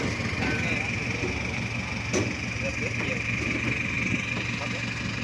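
A car engine runs steadily after a new installation, a continuous low idle hum with a faint higher whine, heard close and even throughout with no pauses.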